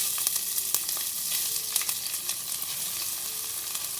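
Onion sizzles and fries in hot oil in a pot, giving a steady close crackle with scattered sharp pops and occasional stirring.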